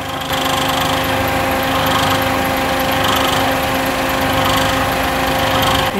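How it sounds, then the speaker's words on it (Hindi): A Suzuki Alto with a 660cc engine idles with its new AC unit running, giving a steady, loud, rattling drone with a fast shaking vibration and a faint high whine, and no talking. "अभी जो है ना, करो एसी ऑन, ठीक है। एसी जैसे ऑन हुआ है ना, अब आप इसकी नॉइस सुनो।"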